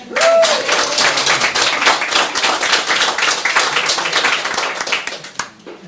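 An audience at a creative writing reading night gives a musician a loud round of applause and clapping that is steady for several seconds, then thins and fades out near the end.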